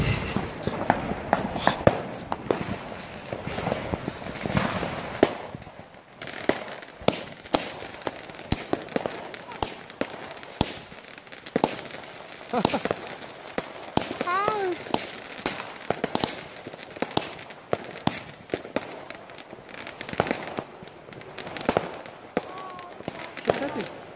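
A fireworks battery fires off a rapid run of sharp, loud cracks and bangs at New Year's, bursts repeating irregularly for over twenty seconds with brief voices early on.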